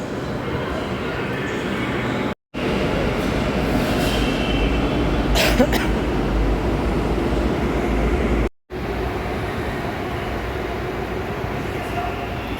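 Kolkata Metro train at a station platform, a loud continuous rumble of the train running through with a brief squeal midway and two short breaks, people faintly audible in the background.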